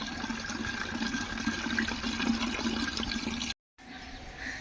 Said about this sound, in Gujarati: પાણી ભરાય છે